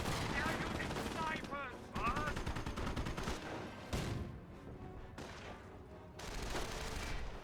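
Battle din from Company of Heroes 1, with anti-tank gun and Greyhound armored car shots amid rifle and machine-gun fire: dense, continuous bursts and booms that rise and drop in waves, loud and cluttered throughout.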